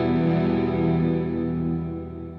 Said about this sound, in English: Here we have another Earthquake device, Afterneath, and this is like a crazy reverb thing.